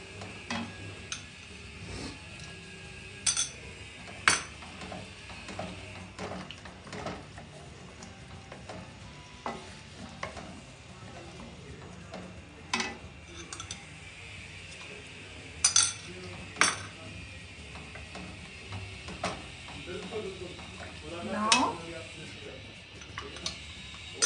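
A spoon stirs honey chili potato gravy thickened with cornstarch in a pan over a high flame, making light, scattered metallic clinks and taps while a voice talks.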